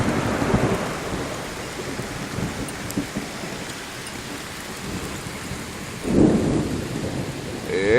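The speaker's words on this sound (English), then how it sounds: "we got a thunderstorm." A Labor Day thunderstorm brings a steady wash of heavy rain throughout, with low rumbles of thunder rolling in and swelling louder near the end; no voices.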